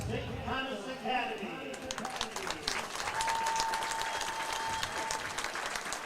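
A high school football crowd claps and cheers as St. Thomas Academy takes the field for a Minnesota 5A game against Mayo, a dense patter of applause rising after a brief voice at the start, heard from a distance.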